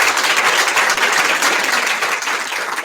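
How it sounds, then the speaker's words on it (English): Loud, steady applause from an audience at a school board meeting, many hands clapping densely and continuously for about three seconds. "So let's give everyone a big round of applause."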